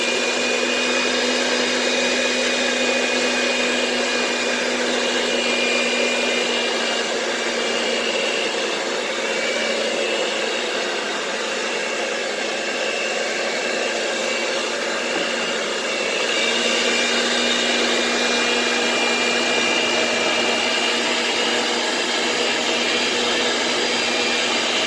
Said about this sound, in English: I'm going to go ahead and turn my mixer on low.